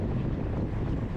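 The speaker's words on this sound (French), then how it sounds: "Donc là, je vais prendre le vent dans la face," Strong headwind roars and buffets steadily across the microphone while racing a bicycle in the EDH Jumet road race, a continuous low rumble with no voices.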